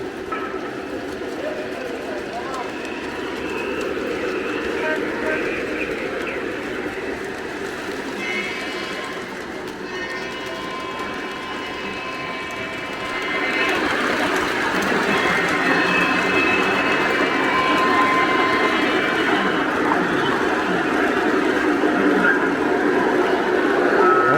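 Steady rumbling of a running Lionel O gauge model train with three layered sound effects, a continuous mechanical drone that grows louder partway through.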